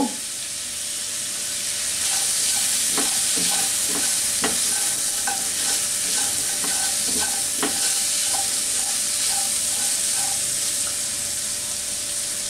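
Shrimp sizzle in a pan, seasoned with chili powder and salt, while being stirred; a loud, steady frying hiss with intermittent scraping and clicking of the utensil, and no talking.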